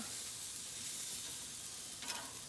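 Burger patties laid face down in a hot pan, giving a steady, bright, hissing sear that stays even throughout, with a slight flare of crackle near the end.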